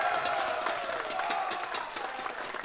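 Crowd cheering and applauding in a live esports arena at the VRML CON 2025 VAIL finals, a dense roar of voices and clapping, fairly loud and sustained, gradually easing toward the end.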